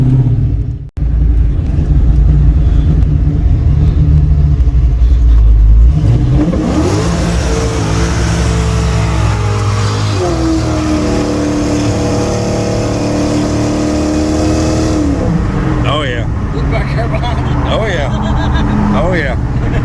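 A Chevrolet El Camino engine revs hard and loud up close, then settles into a rumbling drive with rising and falling gear pulls, the throaty exhaust steady throughout with voices audible at times.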